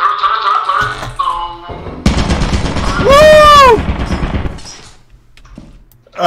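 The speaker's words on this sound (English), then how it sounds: "Turret! No!" A turret in the video game Lethal Company opens fire in a loud rapid burst of gunfire amid other game noises, while a player shouts in alarm over the shooting.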